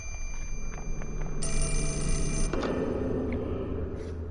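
A telephone rings in the horror game Fatal Frame: Mask of the Lunar Eclipse, one steady electronic ring of about a second over a low ambient drone, followed by a brief click and lingering eerie hum.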